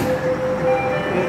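Inside a Jakarta MRT subway train, a steady rumbling roar fills the car with a faint tonal whine over it, loud and continuous without any talk.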